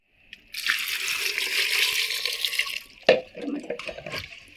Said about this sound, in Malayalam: അപ്പോൾ കപ്പയ്ക്കകത്തേക്ക് കുറച്ച് വെള്ളം ഒഴിക്കണേ